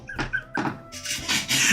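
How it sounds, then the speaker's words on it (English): A few short creaky squeaks from an old gaming chair shifting, close by, followed by a louder rustling creak. "if you heard any squeaking in the background"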